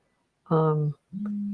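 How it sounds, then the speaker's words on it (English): A phone notification or ring cuts in as two steady electronic tones, the first a rich buzzy note with stacked harmonics, the second a lower sustained tone, both fairly loud and alone without talk. "excuse my phone"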